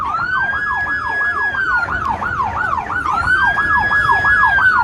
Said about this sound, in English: I really don't know what they're doing with the sirens.